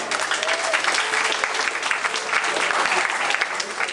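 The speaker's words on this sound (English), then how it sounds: "If you clap a little bit, he'll work a little bit harder for you." An audience at a pet expo claps for a performing dog during a training demonstration, dense continuous applause filling the room, loud and close throughout.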